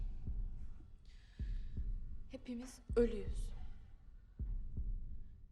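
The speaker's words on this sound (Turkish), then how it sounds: "Şimdi kalp atışlarınızı duymamaya çalışın." Steady heartbeat sound effect during a séance, paired thumps recurring at a slow, even rhythm, with a short spoken voice in the middle briefly over it.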